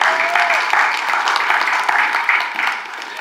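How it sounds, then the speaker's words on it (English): Church congregation applauding during a morning service, loud close clapping spread across the room, with voices calling out over it before it starts to taper off. "Let's give God a hand clap this morning"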